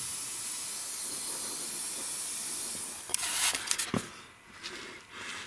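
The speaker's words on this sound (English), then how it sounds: "So I'm just gonna spray some of this rust stuff on it" A steady aerosol spray of rust treatment onto the metal of a 1964 Ford F250 truck hisses for several seconds, then breaks into short bursts and sputters before fading.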